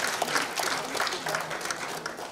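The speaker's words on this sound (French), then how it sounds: "il faut applaudir les mamans" Audience applause for mothers at the closing speech and trophy ceremony of an economic forum in Brussels, a dense crackle of many hands that rolls on steadily while a voice speaks over it.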